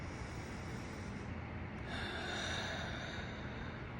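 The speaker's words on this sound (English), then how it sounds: "One more time, breathing in" A slow inhale during a guided meditation breathing exercise, a soft breathy rush rising about halfway through and sustained above a steady low hiss, with no voices.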